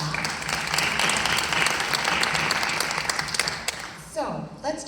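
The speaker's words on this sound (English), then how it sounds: "we could give them a round of applause just for that" A business panel audience at a Chamber of Commerce event claps together in a dense, even burst of applause that fades out as a voice starts speaking.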